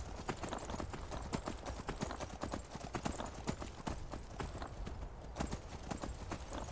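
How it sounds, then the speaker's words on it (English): Continuous rhythmic clip-clop of galloping horse hooves in the video game Skyrim, steady and fairly close, with a faint voice murmuring underneath. "we're getting on our horse to go head out"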